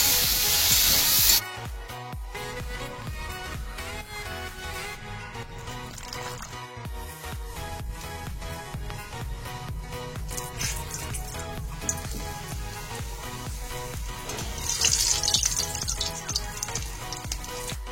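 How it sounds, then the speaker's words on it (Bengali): Papad fries in hot oil, a steady crackling sizzle that runs the whole time at moderate level, with brief louder hissing bursts at the start and near the end. "এখানে পাপড় ভাজা"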